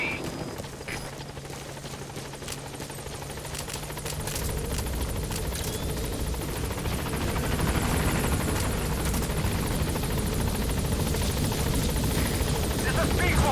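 A helicopter in the video game Metal Gear Solid V: The Phantom Pain arrives at a landing zone, its rotor thudding steadily and growing louder as it approaches, while radio-style voices speak over it.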